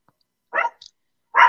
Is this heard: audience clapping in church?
no